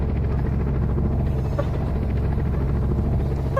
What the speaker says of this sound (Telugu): ఇప్పుడు వచ్చేసేదా మనం హెలికాప్టర్ నడుపుదాం.